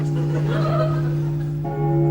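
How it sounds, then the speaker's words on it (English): A bell rings loudly and continuously, its sustained tone heard under a spoken voice and brief laughter. "That bell."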